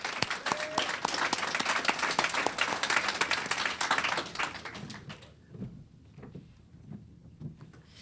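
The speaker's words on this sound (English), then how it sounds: "Let's give all of our Capital Region volunteers a round of applause." An audience at a youth entrepreneurship challenge event applauds volunteers, with dense, loud clapping filling the room for about five seconds before fading into scattered claps and quiet room noise.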